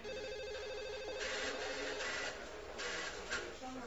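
A telephone rings in a pastry shop, its bell repeating in steady bursts over a constant background hum and low shop noise.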